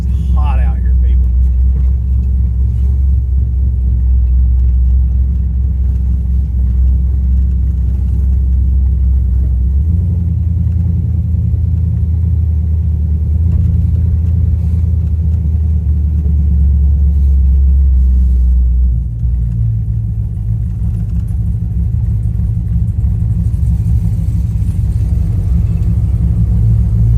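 An LS-swapped third-generation Chevrolet Camaro on its first drive gives a steady, loud low engine rumble. The drone holds at an even pitch and shifts slightly partway through, with a brief higher note near the start.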